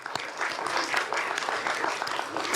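An audience at a school board of education meeting gives students a round of applause, a continuous patter of many hands clapping, fairly close and even, with no speech over it.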